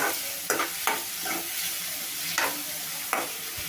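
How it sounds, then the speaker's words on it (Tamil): Two chopped onions sautéing in oil toward golden for egg pepper rice, a constant close frying hiss broken by several sharp stirring scrapes of a spoon against the pan at irregular intervals. "நல்லா வதங்கணும், பொன்னிறமான பதத்தில் வதங்கணும்"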